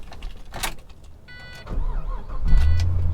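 A 2006 Pontiac GTO with a 6-speed manual cranks and starts. A brief key or window whir comes first, then the engine catches and settles into a deep, steady idle close by.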